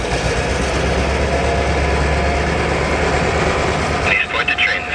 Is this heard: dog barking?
no